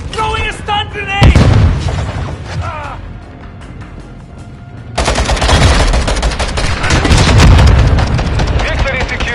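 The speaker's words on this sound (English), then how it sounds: "Throwing a stun grenade!" Combat in a Call of Duty Modern Warfare 2 match on PS5, with heavy bursts of gunfire and blasts at close range, a quieter gap, then a long sustained stretch of loud firing. Game voices call out over the noise.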